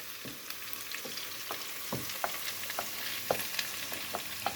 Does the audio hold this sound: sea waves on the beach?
no